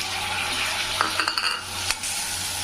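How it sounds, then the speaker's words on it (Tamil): Chopped tomatoes sautéing in a pan for a mushroom curry, a steady hiss with a few light spoon taps and scrapes against the metal. "தக்காளி வந்து 2 தக்காளி நல்லா கட் பண்ணி வச்சுருக்கேன். அதை இதில் போட்டு நல்லா வதக்கிக்கலாம்."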